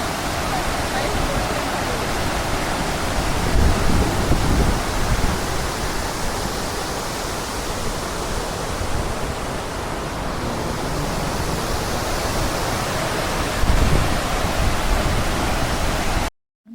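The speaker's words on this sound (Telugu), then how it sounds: "ఆ డ్యాముకు వాటర్ చాలా ఫ్లో అవుతా ఉంది." Loud, steady rush of water pouring over the Srisailam dam, a broad roaring wash that swells slightly at moments, with no voices standing out.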